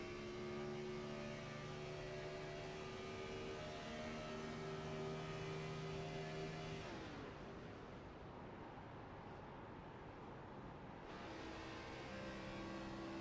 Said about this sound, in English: Have a listen down the front straight, and you'll hear Nick Pressy put the clutch in